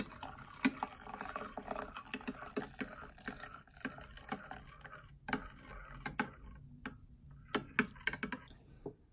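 Steamed milk being mixed into matcha for a latte, heard as quiet, irregular clinks, taps and small liquid sloshes, close by with no talking.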